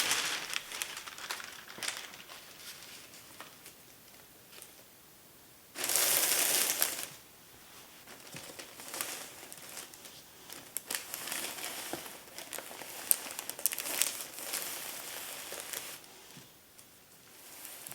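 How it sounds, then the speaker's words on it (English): Baking paper crinkles and rustles as it is laid over fabric and beeswax pellets, with steady close crackling throughout and one louder, denser burst of crumpling partway through. "cover everything with a second sheet of baking paper"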